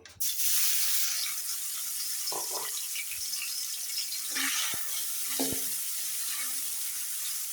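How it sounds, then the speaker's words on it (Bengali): Spiny eel fish pieces go into hot oil in a pan, setting off a sudden bright sizzle that settles into a steady hiss, with a few light knocks and utensil clinks. "এখন এখানে আমি মাছটা ভাজি করে নেব।"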